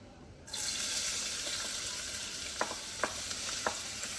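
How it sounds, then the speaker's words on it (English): A small yellow onion sautéing in olive oil in a medium saucepan, a sudden onset of bright, continuous sizzling that holds steady, with a few light scrapes or clinks of stirring near the end. "we are going to saute, this is about a small yellow onion"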